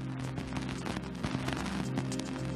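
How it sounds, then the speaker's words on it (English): Cassini spacecraft radio recording of dust striking its antenna near Saturn's F ring, a dense, continuous crackle of rapid static pops with a low steady hum beneath, faint and unbroken. "This is the sound of dust hitting Cassini's antenna."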